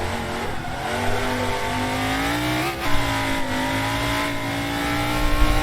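A legendary Can-Am race car in Assetto Corsa revs loud and sustained near top speed on the Mulsanne Straight, its engine note climbing steadily with a brief dip midway.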